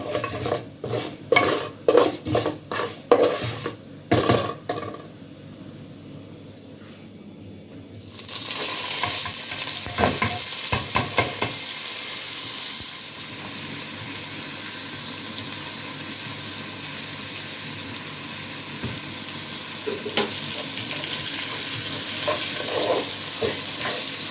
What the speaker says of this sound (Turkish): dolu bir yemek kaşığı da tereyağı attım içerisine. Biraz böyle kavuralım.